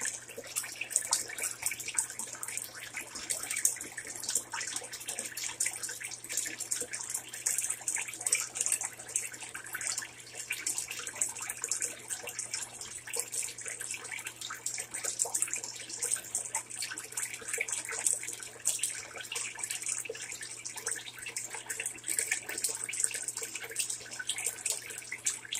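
Steady rush of water draining from a Della 30 lb portable washing machine, a continuous hissing flow heard close up with no talking.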